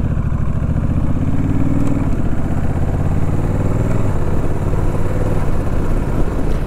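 A Honda Rebel 1100 motorcycle engine drones steadily while riding, a loud, close, continuous rumble with a slight shift in pitch partway through as the engine changes speed.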